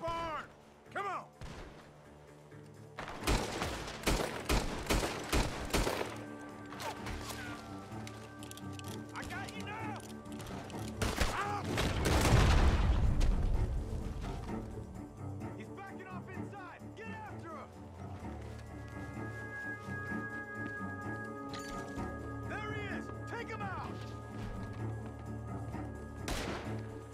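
Gunfire crackles from a barn in the Red Dead Redemption II video game, a cluster of sharp shots bursting out early amid the game's ambient sound and voices.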